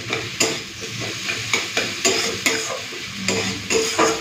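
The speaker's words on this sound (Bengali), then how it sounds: "একটুখানি ঘেঁটে দিচ্ছি" Bitter gourd and potato curry stirred in a pan, a soft sizzle under repeated close scraping strokes of a spoon against the metal, roughly twice a second, with no voices.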